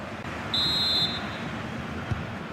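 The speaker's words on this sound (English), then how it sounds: "The whistle sounds, and the second half gets going" A referee's whistle starts the second half of a football match with one clear, shrill blast of about half a second over a steady stadium crowd roar.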